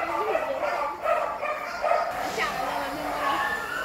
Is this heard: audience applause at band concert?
no